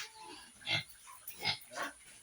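Pigs at a pig farm in Kaliyapani, Titabor, giving three short grunting squeals spaced about a second apart, fairly close and not loud, over a quiet background.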